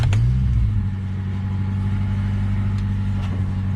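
A 2003 Chevy Tracker with about 151,000 miles fires up, a quick cranking catch into a rising rumble that settles into a steady, close, low engine idle.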